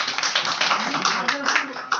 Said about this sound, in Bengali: একটা করতালি হবে তো স্যারের জন্য।